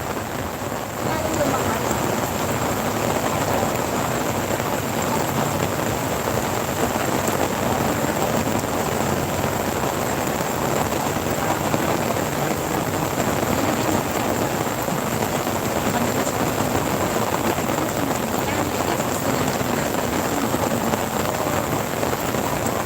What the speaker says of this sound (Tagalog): Ayan, nagpaulan na sila. Parang lumakas.